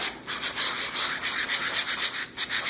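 Sandpaper rubbed over a stamped paper surface in quick back-and-forth strokes, a close, continuous scratchy hiss with a steady rhythm and no voices.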